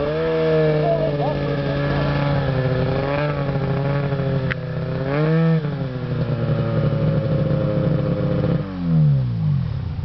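Snowmobile engine revving hard while hooked to another sled with a sno-bunjie for a sled-to-sled pull in snow, a loud steady buzzing drone rising and falling in pitch, then dropping away near the end.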